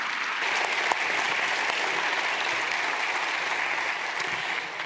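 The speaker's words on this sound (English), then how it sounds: "I want a special applause for our speakers today." Steady, dense applause from a symposium audience on tax fills the room, loud and even throughout with no voices on top.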